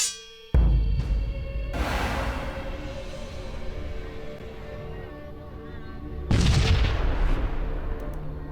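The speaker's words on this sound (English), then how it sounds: "It's just a satisfying explosion" Heavy booming explosions in the space combat video game Sunrider: First Arrival, one sharp blast followed by a rumbling roar, then a second loud detonation that lingers with a low rumble.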